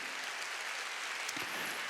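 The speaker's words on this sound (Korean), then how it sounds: "박수 치려면 세게 치라고요." Church congregation clapping during a Wednesday worship service, a dense steady wash of applause filling the whole moment without a break.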